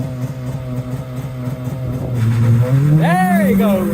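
Honda Civic EP3 engine revving at a car meet, rising through a climbing rev and holding high near the end, loud and close, with voices talking over it.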